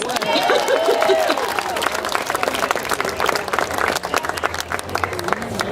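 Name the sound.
big round of applause for the team's young mascot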